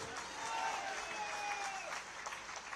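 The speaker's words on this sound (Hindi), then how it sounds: "जोर ताली बजाइए" A crowd at a political rally in Delhi's Laxmi Nagar constituency, addressed by Rajnath Singh, claps in a steady, distant wash of applause with faint whistle-like tones and some voices mixed in.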